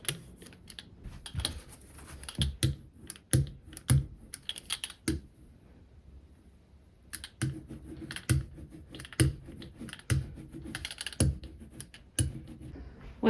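A brayer rolls out stiff etching ink for kitchen lithography, giving close, tacky crackling bursts of rapid clicks in repeated strokes with a short pause midway. No one speaks.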